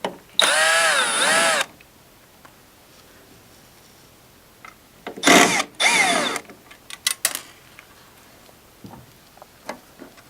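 Power screwdriver removing two Phillips screws from a dehumidifier compressor relay: two loud, close, whining bursts, one about a second long and a later double burst, followed by small clicks and taps of parts being handled.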